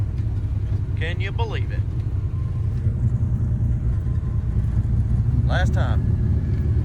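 A V6-swapped Chevette rolls back into SGMP on a cool morning, its steady low engine rumble running under the whole stretch while people talk briefly at the start and again near the end.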